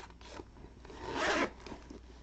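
A zipper is drawn shut on a Chanel Executive tote, one steady rasping pull lasting about half a second, close and clear in a quiet room.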